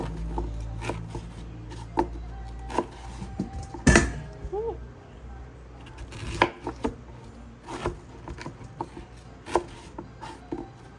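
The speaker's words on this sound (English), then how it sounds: "So I'm gonna cut some medium slices out of this." A knife cuts a pear into medium slices for a pear and guava paste pie, giving soft, scattered cutting taps at irregular intervals over a low, steady background, with one sharper knock partway through.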